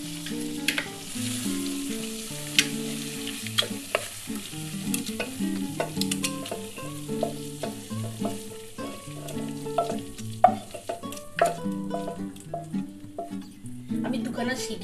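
Mutton curry cooks in a pressure cooker, a low bubbling sizzle under a tonal melody, with soft stirring clicks and scrapes throughout at moderate loudness.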